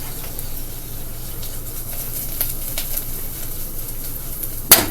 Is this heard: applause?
no